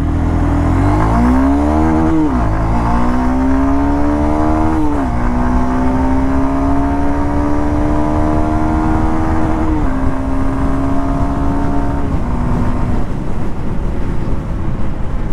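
Honda Hornet 2.0 motorcycle accelerating hard in second gear, engine note rising steeply through several revving pulls with gear-like steps, loud and close over heavy wind rush, no talk.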